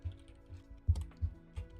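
Someone types on a computer keyboard, giving soft scattered key clicks with a few sharper, louder taps, close by in a quiet room.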